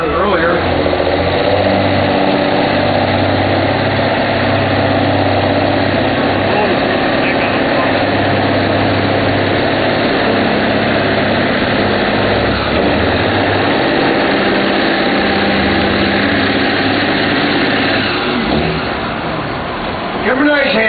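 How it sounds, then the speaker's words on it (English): An Autocar DC64 truck with an NTC 400 big cam Cummins diesel and a Road Ranger transmission rumbles in a low, steady idle at a fairground truck pull, with an announcer talking over it throughout. "Autocar DC64 model with an NTC 400 big cam Cummins and a Road Ranger."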